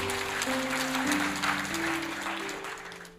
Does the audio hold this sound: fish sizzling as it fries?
no